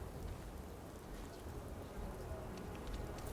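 Steady rain pours down in Starfield, a dense, even hiss of falling drops with faint scattered patters, continuous and moderately quiet throughout.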